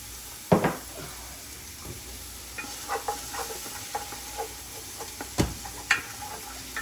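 Potatoes sauteing in bacon fat in a pan: a soft, steady sizzle broken by intermittent utensil scrapes and clacks from stirring, close by with no talking.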